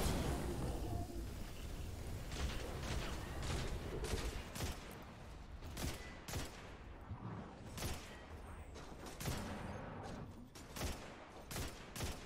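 Gunfire in the shooter game Destiny 2: dense, rapid volleys of sharp shots over a constant rumble of battle noise, with bursts clustered and spaced unevenly across the stretch.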